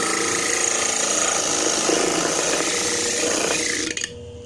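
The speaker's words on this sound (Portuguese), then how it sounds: "Aí, ó, ele lixa bom que só, né? E não queima a lixa." A small homemade sander driven by a salvaged machine motor works a little piece of wood, giving a loud, steady rasping whir close by that stops abruptly near the end, leaving only faint room noise.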